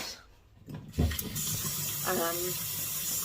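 Tap water runs into a kettle in a home kitchen, a steady close gushing stream starting after a clunk and continuing to the end, with a brief voice murmur partway through.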